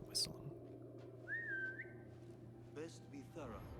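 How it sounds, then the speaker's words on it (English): A character in an Assassin's Creed game whistles to lure a guard: one short, rising-then-level whistle over low background hum, with faint murmuring and shuffling sounds after it. "Let's see if I can whistle him."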